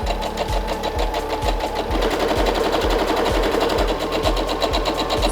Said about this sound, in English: So I've started sewing, I've pushed down and holding down the button to reverse.